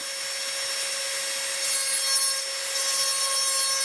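A carbide inverted cone bit on a rotary carving tool works the eyebrow detail of a carved wooden spirit bird, giving a steady, close grinding and rasping whine that runs unbroken for the whole stretch, with no talking.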